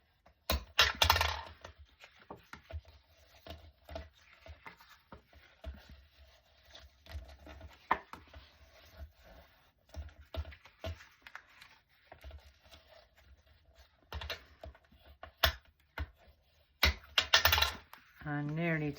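Scored fold lines on a fan topper paper card are burnished by hand, giving soft scraping and rubbing strokes with scattered taps and clicks, close up, with pauses between bursts.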